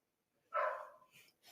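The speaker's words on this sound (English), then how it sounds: "That's my neighbor's dog, and my dog might be barking soon." A neighbor's dog gives one faint, distant bark followed by a couple of softer yips, heard through a wall in an otherwise quiet room.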